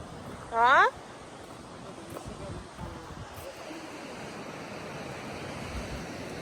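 A steady, soft rush of flowing water continues throughout, preceded by a brief high chirping call near the start.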